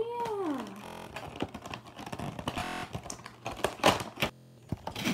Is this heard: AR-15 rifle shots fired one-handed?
no